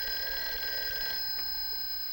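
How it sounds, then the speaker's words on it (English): An old telephone bell rings steadily and loudly for about a second, then its tone lingers faintly, with no one speaking. "Hey, that's your phone, Uncle Bill"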